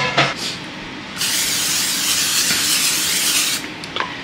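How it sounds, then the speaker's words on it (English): Bacon goes into a hot pan and frying starts with a loud, close, broad hiss and sizzle that holds steady for a few seconds, then eases off, with a few small pops and taps near the end. "let's make some bacon"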